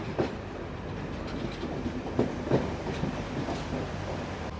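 The Intercity Express train from Jaffna to Colombo rolls into Kurunegala railway station, wheels clattering in a steady rhythm with scattered louder clacks and faint squeals, close by and without voices.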